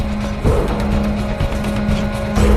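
A car speeds away with squealing tires in a film chase, the engine roaring loudly and close, with several short screeching bursts over a continuous tonal whine.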